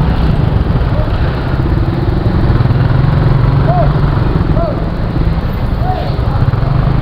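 Motorcycle engine running steadily in heavy Pasay traffic, a loud continuous rumble with surrounding road noise and a few faint horn-like chirps throughout.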